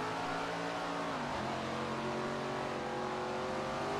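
A super late model race car engine at Slinger in SRX: The Game, roaring steadily at high revs with a sustained buzzing drone. The pitch dips briefly as the car shifts, then holds loud and close throughout.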